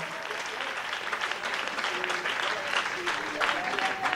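A church congregation claps and cheers at a Sunday service, dense sustained applause with voices calling out throughout, filling the room.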